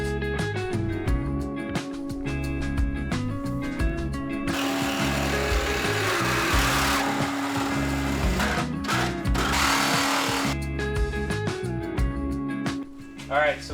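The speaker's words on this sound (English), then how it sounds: "Alright, so we got the old front end cut off" A power tool runs loudly and continuously while cutting the rusty front end off a Mustang, a buzzing, droning whine with bursts of harsher grinding noise in the middle.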